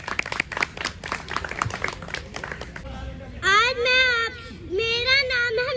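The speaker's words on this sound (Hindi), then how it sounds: "मिस्टी के लिए तालियां।" An audience at a children's expression show applauds a young girl participant with a burst of quick, close clapping lasting about three seconds, then fades as a voice starts speaking and singing.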